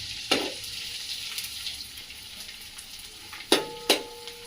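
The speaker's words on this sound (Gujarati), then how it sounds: "आमा घी गरम थाय એટલે આ ગુંદ છે ને તરવાનું છે" Edible gum (gund) fries in hot ghee with a soft, steady sizzle, broken by a few sharp crackles and pops near the start and end.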